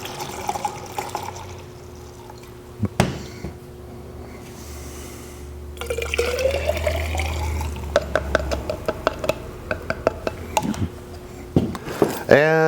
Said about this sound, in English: Then we're going to take 8 ounces of SeaFoam.